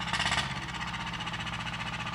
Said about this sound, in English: He done start up the tractor.